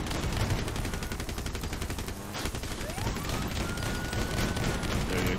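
Rapid machine gun fire roars almost nonstop in Crossout, a vehicle combat video game, with bursts layered over engine rumble and a rising whine partway through.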